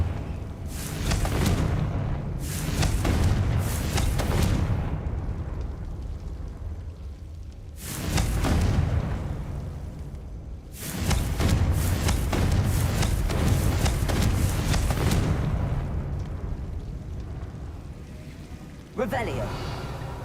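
Repeated Confringo spell blasts in Hogwarts Legacy burst out as loud, broad roaring explosions in several long bursts, each fading into rumbling debris, with a short gap of quiet between volleys.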